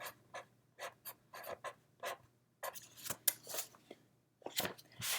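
Pencil or pen writing on paper in short scratchy bursts, a series of quick strokes with brief pauses between them, close and fairly quiet over a faint steady hum.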